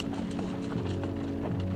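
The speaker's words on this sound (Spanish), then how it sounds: "Pizarro realmente hizo que la caballería cargara para defenderse." Spanish cavalry horses galloping in a charge, a dense, steady run of hoof clip-clops that carries loud and continuous throughout.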